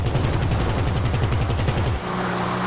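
Rapid automatic gunfire from the video game GTA 5 Online rattles in a dense, even burst for about two seconds, then cuts off, leaving engine-like background noise with no speech.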